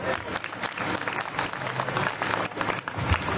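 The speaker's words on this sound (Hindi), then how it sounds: "थोड़ा एक ताली बजाए।" An audience at a gathering claps together, a dense, steady patter of many hands at moderate distance that carries on throughout, with no voice on top.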